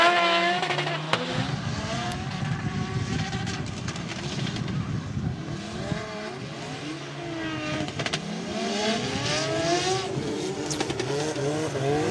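A Toyota AE86 Hachiroku and a BMW 1M, both short-chassis and wide, drift on a race track. Engines rev and roar continuously with rising and falling pitch, and tires squeal throughout.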